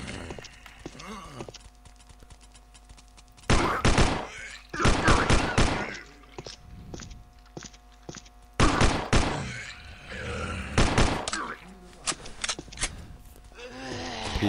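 Gunfire in the zombie shooter Land of Dead comes in several dense, loud bursts of rapid shots separated by pauses. Quieter game sounds and brief talk fill the gaps.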